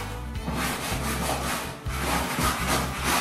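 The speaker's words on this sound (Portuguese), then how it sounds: "E vai esfregando, gente, a mochila." Steady hand scrubbing of a backpack with a brush, dense rhythmic rubbing strokes repeating about once a second, close and loud, no talk.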